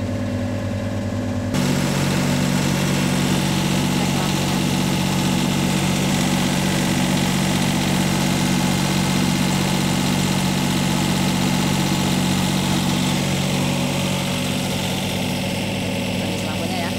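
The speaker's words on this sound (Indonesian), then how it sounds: "Oke, engine udah nyala." A vehicle engine idles steadily and loudly for the whole stretch after starting up, a constant low rumble with vibration and no other sounds over it.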